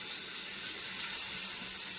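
Tap water runs steadily into a kitchen sink while hands are rinsed, a soft continuous hiss of flowing water that holds even and close throughout, with no voices.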